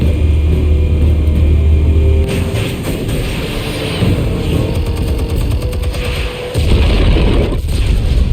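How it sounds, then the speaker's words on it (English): Explosives detonating in Batman The Telltale Series, a loud deep boom followed by sustained rumbling blasts and crackling debris, with a brief dip before another heavy burst. "Explosives armed. Fire when ready."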